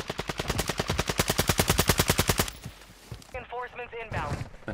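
Rapid burst of KV Broadside shotgun fire in Call of Duty Warzone 2.0, about twenty loud evenly spaced blasts in quick succession, then a short lull with voices talking at the end.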